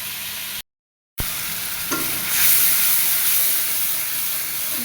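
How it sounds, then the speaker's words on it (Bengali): Meat masala fries and gets stirred in a pan, a steady close sizzle and hiss with scraping, broken by a brief silent gap and swelling louder toward the end. "মশলাটা ভালো মতো কষায় নিব।"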